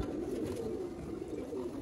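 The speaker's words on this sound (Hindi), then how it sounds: "कबूतर लाजवाब हैं।" Close, continuous low cooing from a group of pure Sialkoti pigeons, a soft rolling throaty drone that holds level throughout with no voices.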